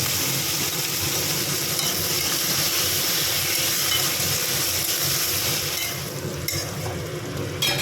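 Onions fry in hot oil with cumin and chilli in a pan for a duck egg curry, a steady, dense sizzle and hiss running throughout with no talking.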